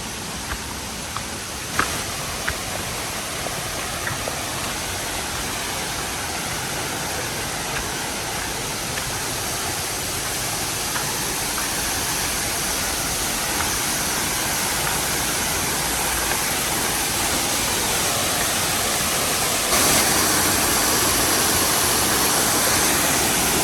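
Surathali Ella waterfall in Sri Lanka, flowing lower than usual, pours in a constant, dense rush of falling water heard close and loud, unchanging throughout.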